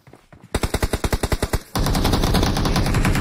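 Rapid automatic gunfire from a video game, a clear burst of about a dozen evenly spaced shots followed by a dense, continuous roar of firing.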